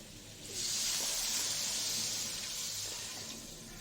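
Water poured into a hot pan of well-fried potato and taro, a sudden loud steamy hiss that swells and holds, then slowly eases off while still bubbling.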